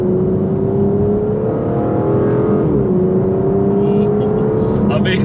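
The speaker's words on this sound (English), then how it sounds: "I just squeezed on the throttle coming out of that roundabout in second" An Aston Martin Vantage V12 with 690 bhp is squeezed on the throttle in second gear pulling out of a roundabout, its engine note rising steadily, dipping briefly at a shift or snap, then climbing again, loud and continuous from inside the car.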